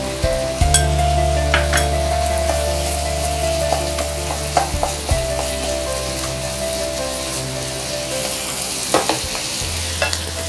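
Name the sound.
red chili paste frying and being stirred in a pan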